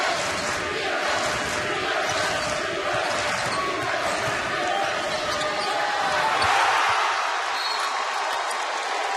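A college basketball crowd at a Wofford versus Iona game roars steadily and loudly, swelling near the end, with basketball bounces and squeaks faintly under the noise.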